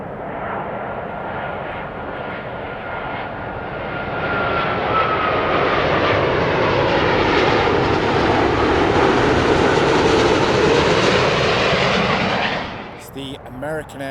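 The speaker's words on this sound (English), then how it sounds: "The American Airlines Boeing 777-200, and that is coming in from Dallas." An American Airlines Boeing 777-200 jet airliner on approach to land roars as it passes near and loud, its engine tone swelling and gradually rising before cutting off abruptly at the end.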